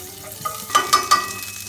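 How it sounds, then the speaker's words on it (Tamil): Mustard seeds, cumin, fennel and fenugreek crackle in a little hot oil, a soft steady fry punctuated by a few sharp pops and spatters, fairly quiet with no talking. "எண்ணெய் கொஞ்சம் ஊற்றிக்கலாம். கொஞ்சம் கடுகு, சீரகம், சோம்பு,"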